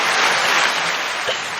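A short burst of recorded applause rings out during a podcast, a dense steady patter of many clapping hands that holds for under two seconds.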